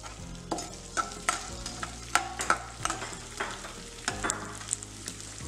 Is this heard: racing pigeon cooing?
no